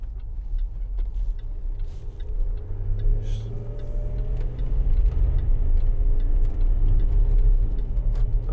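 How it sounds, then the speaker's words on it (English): A 2011 Land Rover Discovery 4 with the 3.0 SDV6 diesel pulls away and drives, a steady low engine and road rumble heard from inside the cabin that swells slightly as it gathers speed. "pulls away really well."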